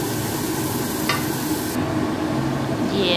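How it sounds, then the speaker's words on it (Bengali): Prawns sizzle in hot oil in a pan for Bengali prawn and spinach cooking, a steady loud hiss with a brief stirring scrape and no talk. "চিংড়ি মাছগুলো দিয়ে দিয়েছি, দিয়ে হালকা করে ভেজে নেব"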